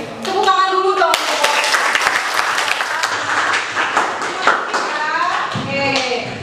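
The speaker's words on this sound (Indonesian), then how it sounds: "Oke, tepuk tangan dulu dong." Classroom applause from students in a school lesson, a dense patter of many hands clapping steadily for several seconds, with voices and cheering mixed in over it.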